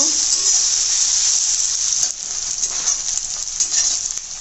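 Onions hiss and crackle in hot oil while frying until brown, the start of a dried-fish dish with green tomatoes; a loud, dense, continuous sizzle close by, with no voices.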